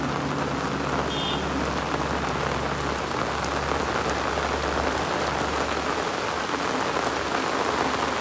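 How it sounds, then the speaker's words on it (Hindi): Heavy rain pours down in the mountains between Shimla and Kufri, a dense, loud and unbroken hiss of drops with a faint low rumble beneath it and no voices. "बारिश तेज ही होती जा रही है।"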